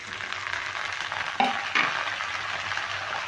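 Washed cut potatoes drop into a pan of lightly fried chana dal, a steady frying sizzle that flares with two sharp bursts as they hit the oil.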